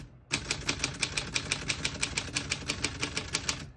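Keys strike steadily on a 1946 Smith-Corona Silent portable typewriter set to single spacing, a crisp, even run of about seventeen clacks close to the listener, with no talking.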